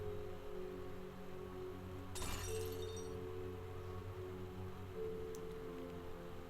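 A potion of polymorph shattering in a video game: one brief, sharp glass break in the middle, with a faint later tinkle, over a quiet, steady background hum.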